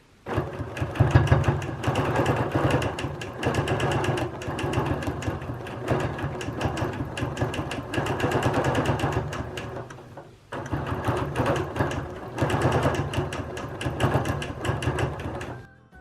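A sewing machine free-motion quilting flowers and leaves runs in fast, steady stitching bursts up close, pausing briefly once before resuming at the same rapid, even rhythm.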